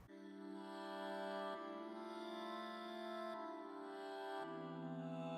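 Layered, sustained vocal harmonies from the Nectar harmonizer plugin holding steady chords, shifting to new chord positions a few times, dense and processed with no words.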